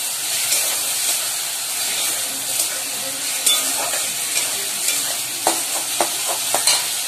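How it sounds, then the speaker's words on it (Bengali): Ginger-garlic paste frying in a pan for a bhetki fish-head curry, a steady close sizzle with soft spoon scrapes and a few sharp clicks as the paste is stirred, no talking. "এবার ভালো করে মশলাটা কষিয়ে নেব আদার যাতে গন্ধটা চলে যায়।"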